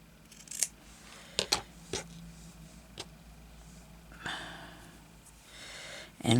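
Scissors cut through recycled clothing fabric in several sharp, close snips separated by short pauses, with quiet handling noise between them.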